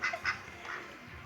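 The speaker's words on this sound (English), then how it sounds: "You watching Johnny play that duck game?" Cartoonish duck quacks come from the Duck Life 4 video game playing in a home. Two quick quacks come first, then a softer call, all faint and close with no voices over them.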